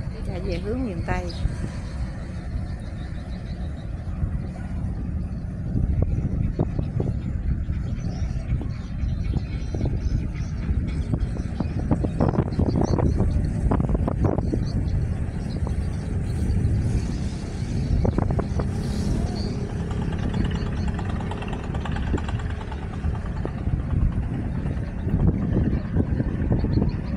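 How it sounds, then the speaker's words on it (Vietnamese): Iron cargo barge carrying dry goods motors along the Chợ Gạo canal, a steady low engine drone with wind buffeting the microphone throughout, fairly close and continuous. "chiếc ghe sắt chở hàng khô."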